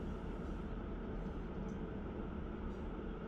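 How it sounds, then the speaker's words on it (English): A freight train in the Run 8 train simulator game slows under dynamic braking in Northern California, producing a steady, dense rumble and roar with no break and no talking. "Here it comes. It's slowing down now."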